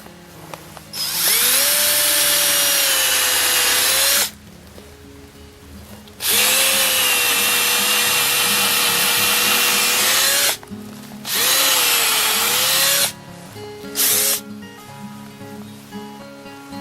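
A power drill bores a tap hole in a maple tree in several long whining bursts separated by short pauses, loud and close, its pitch steady through each run.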